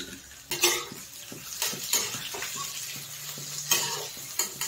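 Chopped onion and green chilli with bay leaf frying in oil for chicken curry: soft sizzle under repeated spoon-against-pot stirring scrapes and light metallic clinks, close up.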